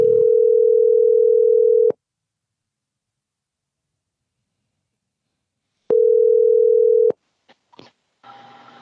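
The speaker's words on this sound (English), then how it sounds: "Let me call low and get the bitch Erica" A phone call's ringback tone plays as two steady, loud buzzing tones about two seconds and one second long, split by silence. Faint clicks and rustling follow the second tone.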